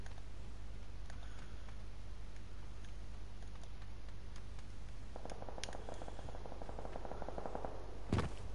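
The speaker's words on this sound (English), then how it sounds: "Gunfire, but I don't know where." Distant gunfire in a PS4 video game crackles as a rapid string of faint bursts under a steady background hum, ending in one sharper, louder shot.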